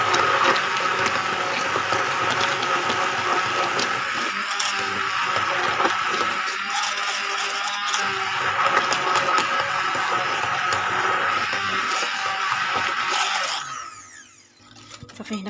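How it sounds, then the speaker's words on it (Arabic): An electric hand mixer whirs steadily through carrot cake batter as carrots and flour go in, a constant buzzing motor drone that holds for many seconds before abruptly cutting off near the end. "صافي هنا خديت الخلاط اليدوي"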